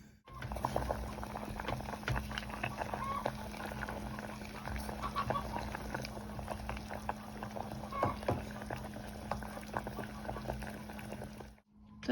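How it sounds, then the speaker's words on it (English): Apples simmering in boiling liquid for a dye, a steady soft bubbling patter with small pops throughout, close but fairly quiet, fading out right at the end. "And then I'm just going to simmer them until they are tender."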